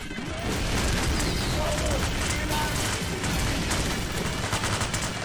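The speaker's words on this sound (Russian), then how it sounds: "фейерверки меня дамажат" Fireworks going off in the video game Bloodbath Kavkaz, a rapid volley of booms and crackling bursts that continues without pause, loud and dense, with a voice heard briefly.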